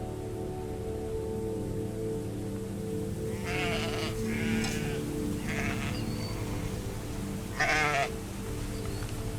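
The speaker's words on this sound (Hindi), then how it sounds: "मूसा उठ खड़ा हुआ और अपनी भेड़ों को उस अजनबी जगमग करते हुए प्रकाश की ओर ले जाने लगा" Several sheep bleat in short wavering calls, a few close together and one louder near the end, over a steady background of rain and a low droning hum.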